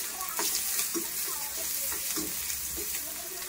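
Chopped onion with turmeric frying in oil, a close, constant crackling sizzle overlaid by soft rhythmic stirring strokes every half second or so, with no talking.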